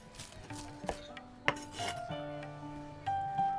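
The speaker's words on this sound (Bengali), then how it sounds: "ধনিয়া পাতাটাকে আমি একটু চপ করে দিচ্ছি" Coriander leaves are chopped on a board in an iftar kitchen, a few soft knife knocks and rubbing scrapes mixed with light clinks of dishes and utensils, with no talking.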